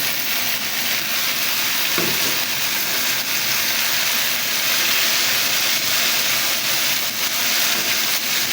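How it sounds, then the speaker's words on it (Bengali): Leafy greens sizzle loudly in a hot pan, a steady bright hiss with occasional stirring scrapes, no talking. "দিয়ে কিছুক্ষণ নাড়াচাড়া করে ভেজে নিব"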